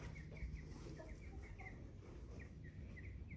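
American Bresse baby chicks peep in quick, repeated high chirps while being sorted and weighed, faint and close, with soft rustling and a low background hum.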